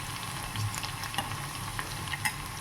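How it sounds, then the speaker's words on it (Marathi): Garlic and cumin frying in hot oil in a pan, a soft continuous sizzle with a few sharp pops and faint stirring taps, close by and without talk. "याला छान फ्राय होऊ देऊ अगोदर"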